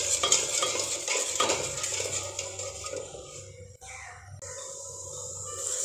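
A falooda jelly mixture is stirred continuously in a pot, giving repeated scraping and sloshing strokes that are close and moderately loud at first, then thin out into a quieter hiss toward the end.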